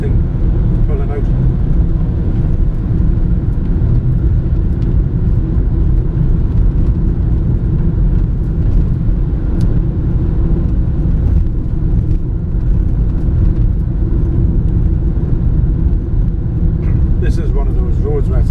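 Car driving at about 60 mph along a country road, a constant close engine and road rumble with tyre noise that stays loud and even throughout, under someone talking.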